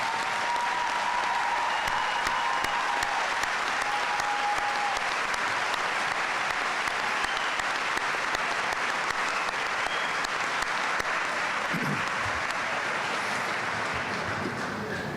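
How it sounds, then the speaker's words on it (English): Audience at a college commencement ceremony applauds veterans who have served in the armed forces, a steady, dense clapping that holds evenly throughout in a large hall. "let us give you a well-deserved round of applause"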